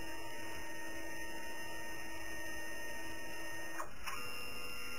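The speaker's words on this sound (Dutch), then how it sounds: "Ik druk op copy of op scan. Het documentje wordt ingescand." Office copier-scanner running a scan of a document, a steady mechanical whir with constant hum throughout, and a brief sharper swish near the end as the scan head moves.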